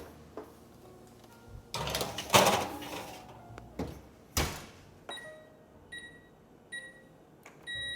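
Plant-based meatballs going into a home oven bring several close clunks and thumps of a tray and oven door, followed by faint electronic beeps from the oven control panel near the end.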